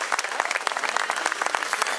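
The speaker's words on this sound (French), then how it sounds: "On les applaudit tous les deux, s'il vous plaît, mesdames, messieurs." Brisk, dense clapping from an audience at a road cycling race podium ceremony in the Côtes d'Armor, steady and fairly close throughout the short burst.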